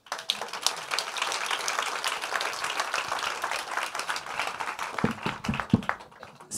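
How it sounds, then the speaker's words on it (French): An audience at a French public dialogue event on agricultural and food resilience applauds its speakers, a lively, uneven patter of many hands clapping throughout, with a few louder, closer claps near the end. "Je crois qu'on peut les applaudir."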